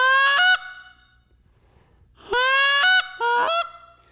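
A goose call blown with pressure gives three loud, close honks, each starting low and snapping abruptly up to a higher note, the first alone and the last two close together after a short pause.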